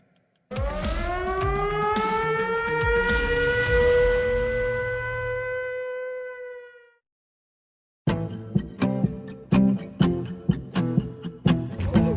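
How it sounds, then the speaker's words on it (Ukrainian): A loud wailing recorded air raid siren, played during a Russian attack on Ukraine, rises and holds for several seconds, then fades out; after a short silence, rhythmic drum-heavy music begins. "сиреною, але це сирена записана."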